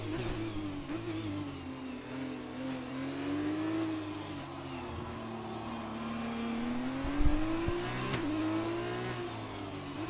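F2 race car in a racing video game lapping with a front-left puncture, a continuous mid-pitched engine drone whose pitch rises and falls through gear changes, with a brief bump near the end.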